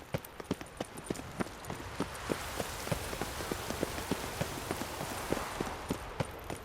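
Steady rain falls in The Witcher 3 with hoofbeats clip-clopping through it, a dense wash of rain noise punctuated by regular, evenly spaced horse steps close by, with no talking.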